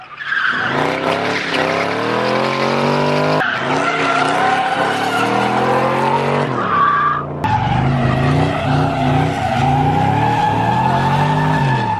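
Car tires skidding and squealing during a drive with racing-style cars, long loud continuous screeches with shifting pitch, briefly broken twice, no talk over it.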